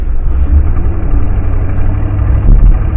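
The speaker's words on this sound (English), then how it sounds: "I wonder how much the engine noise will affect the video." A car engine idles with a steady low rumble while the vehicle pulls out, loud and close from inside the cabin, with a slight swell near the end.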